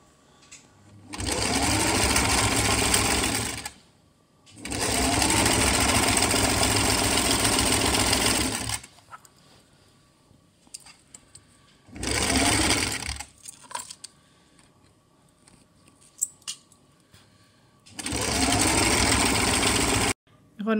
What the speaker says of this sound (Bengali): প্রথমে আমি অন্য সাইডে দিয়ে সেলাই দিমু, বাদে ওটারে ফোল্ড কইরা আর একটা সেলাই দিব